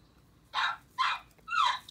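A dog barks three times, short sharp barks spaced about half a second apart, fairly close indoors, with no talk over them.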